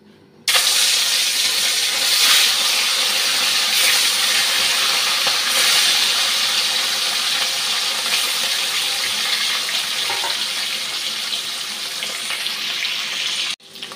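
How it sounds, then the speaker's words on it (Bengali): A fish coated in salt and turmeric fries in hot oil, giving a loud, continuous broadband hiss and sizzle that starts abruptly and holds steady for many seconds, with no talking. "মাছটা ভেজে নিচ্ছি।"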